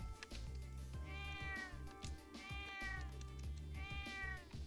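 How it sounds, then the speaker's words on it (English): A cat in the video game Trails of Cold Steel 2 meows three times in a row, each call drawn out and tonal, set over steady game music with no voices. "The cat!"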